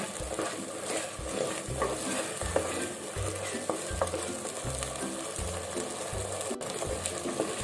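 Ground masala paste with cashews is stirred in a hot pan for dum biryani, a spoon scraping in a steady repeated rhythm over a continuous frying sizzle, close and fairly loud, with no talk.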